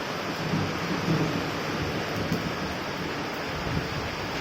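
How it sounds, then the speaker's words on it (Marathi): Heavy, steady monsoon rain roars throughout, with deep rolls of thunder rumbling underneath, heard from a house terrace. "विजांचा आवाज येतोय का बघा मोबाईलमध्ये"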